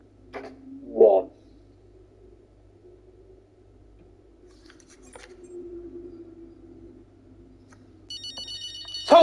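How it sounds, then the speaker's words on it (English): A phone in the F1 23 video game rings faintly, its tone starting near the end after quiet low hum and a brief knock, close and getting louder. "I guarantee that phone's going to ring. Watch this phone ring."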